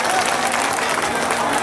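A crowd at a Sant Sevalal Maharaj Jayanti celebration applauds loudly, dense continuous clapping filling the short moment with a voice faintly underneath.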